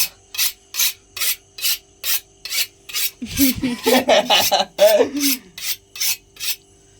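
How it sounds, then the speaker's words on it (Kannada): A knife is sharpened on a stone in a home kitchen with loud, regular back-and-forth rasping strokes, about two per second, briefly turning into quicker, denser scraping midway before the steady rhythm returns. "ಚಾಕು ಶಾರ್ಪ್ ಆಯ್ತು."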